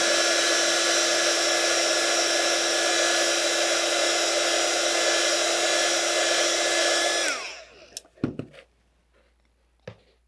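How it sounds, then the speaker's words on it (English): A heat gun dries hybrid acrylic paint on a craft moulding, a loud steady whining blast with a high tonal hum that runs for about seven seconds, then winds down and stops, followed by a few sharp clatters of the tool being set down. "I'm just going to dry that off really quickly with my heat gun, just so I've got a dry surface"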